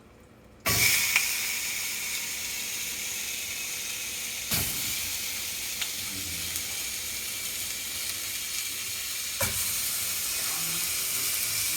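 A Wagyu steak hits a hot pan with a sudden loud sizzle that settles into a steady, bright hiss, with a couple of brief bumps as the meat is moved.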